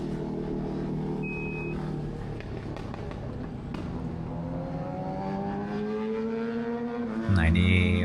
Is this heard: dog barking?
no